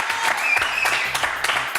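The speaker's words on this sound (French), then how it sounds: "je recevrai l'humoriste Baptiste Le Caplin, que je vous demande d'applaudir très très fort," A TV studio audience claps briskly for a comedian's introduction, the applause lively and fairly close, with a voice speaking over the clapping.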